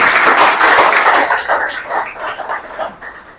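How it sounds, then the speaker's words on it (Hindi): A group of people clap their hands together in steady, dense applause that starts loud and gradually thins out and fades over a few seconds. "बजाओ एक बार ताली"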